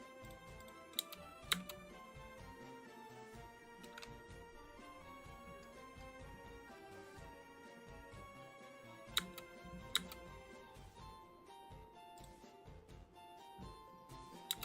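Soft, steady clacking of typing on a pink mechanical keyboard, faint and continuous with a few sharper key taps, set against quiet background music.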